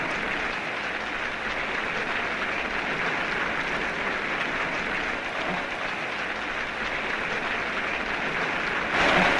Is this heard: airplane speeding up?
no